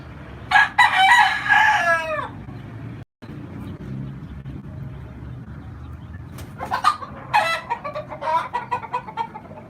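A rooster crows loudly and close by at the start, followed by a pause and then bursts of clucking from fowl, heard over a low background hum.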